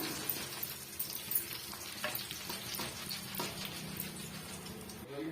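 Flattened rice frying in hot oil in a slotted ladle, a close, busy crackling sizzle with scattered pops and light scraping of the ladle, continuous throughout.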